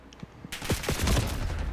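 Gunfire in Black Ops 6 ranked play: a few faint pops, then a loud close burst of rapid shots that trails into rumbling echo.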